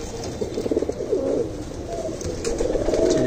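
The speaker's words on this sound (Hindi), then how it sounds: "ये मेरा घर का उड़ा हुआ कबूतर है।" A domestic flying pigeon coos in steady low, warbling phrases close by, over a constant background hum.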